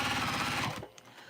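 A Juki TL 2010Q quilting edition sewing machine runs with a rapid, even mechanical stitching chatter, close and loud, then stops abruptly and leaves a quiet room.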